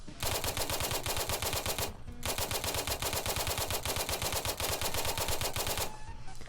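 A drum-fed gun in the video game Unturned fires rapid automatic rattles in a long sustained burst, briefly pausing, then resuming and continuing loud and dense before stopping.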